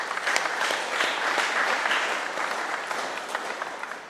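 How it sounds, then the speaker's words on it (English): An indoor handball crowd at an All-Ireland senior singles event gives a sustained round of applause for the referees, dense clapping that swells and then slowly thins near the end. "Please give them a big round of applause."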